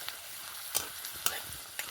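Peanuts fry in oil while being stirred, a soft, fairly quiet sizzle with a few sharp clicks and scrapes from the spoon against the pan, and no voices.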